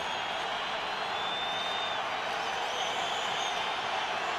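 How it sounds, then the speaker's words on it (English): A partisan crowd at a Broncos home game in 2009 roars continuously as the Chiefs offense takes the field, a dense, sustained stadium wash with whistles and whoops, steady and loud throughout. "Matt Castle and the Cheifs will face the roar of this partisan crowd."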